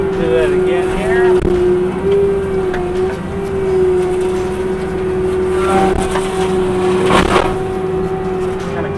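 A disc mulcher runs steadily, its engine drone holding a constant pitch throughout, with bursts of cutting and brush noise as material is fed in; no clear speech over the machine.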